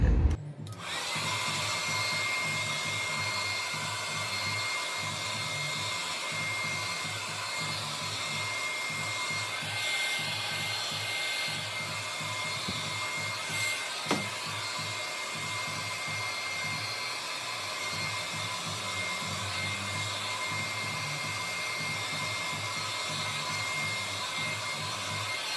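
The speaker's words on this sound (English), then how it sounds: "So sa pag-i-style, usually, gumagamit po ako ng, ng blower." A handheld hair dryer blows steadily while styling a hair replacement toupee, a continuous close whooshing roar that runs unbroken for the whole stretch with no talk.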